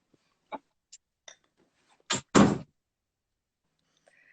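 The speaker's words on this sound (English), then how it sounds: "I'm going to shut the door a bit." An indoor door is pushed shut partway, giving two close, solid thuds in quick succession after a few faint knocks and shuffles, followed by near silence in the room.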